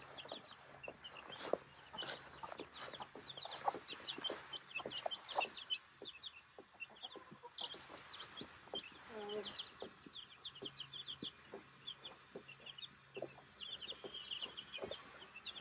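Chickens on a ranch cluck and chatter on and off throughout, with small birds chirping in the background and occasional scuffling noises.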